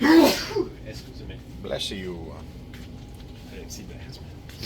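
A single sharp sneeze bursts out near the microphone at the start, followed by brief talk from a couple of people in a quiet indoor setting.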